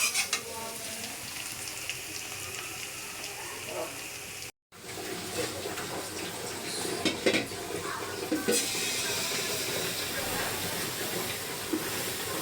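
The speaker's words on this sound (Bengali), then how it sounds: "এই যে টমেটোর চাটনি রান্না করব। এটা কাঁচামরিচ দিছি, পেঁয়াজ আর হচ্ছে রসুন কুচি।" Tomato chutney with green chili, onion and chopped garlic sizzles in a pan, a dense continuous frying hiss broken by occasional utensil clinks and one brief dropout.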